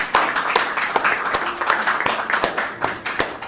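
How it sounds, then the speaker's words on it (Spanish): Applause from a church congregation builds into rapid, uneven clapping that stays fairly loud and close throughout. "Un aplauso al Señor."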